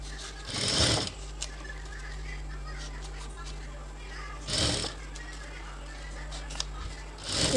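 Sewing machine stitching a natural jute bag, with two short whirring runs of about half a second each and a third starting at the end, separated by a quiet room hum.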